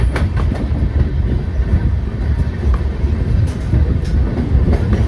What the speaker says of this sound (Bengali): ট্রেন বেরিয়ে চলল তার পরবর্তী স্টেশনের উদ্দেশ্যে